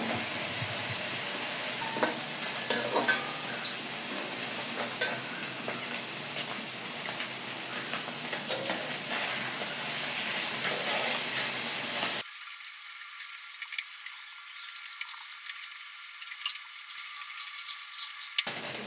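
Small mola fish coated with turmeric, salt and chili fry in a pan with a steady close sizzle and hiss. Faint stirring clinks and crackles run through it with no voices.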